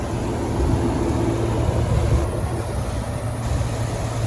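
A 2019 Chevrolet Tahoe LT 4x4 engine idling steadily, a low, even rumble that holds constant throughout with no revving or voices.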